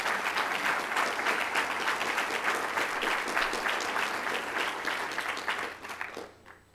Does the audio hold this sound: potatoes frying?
no